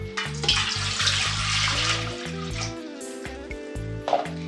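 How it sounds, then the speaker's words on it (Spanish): Tap water streams steadily into a small cooking pot, a continuous close pour with a rising hollow tone as the pot fills, alongside a faint background hum. "Voy a poner en una ollita el agua"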